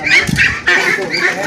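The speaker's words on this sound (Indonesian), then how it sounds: "Ini bebeknya bebek tua ya" Aged two-month-old ducks on a duck farm call out in loud, honking quacks. The calls come in two dense bursts with a short break between them, and no voices are heard.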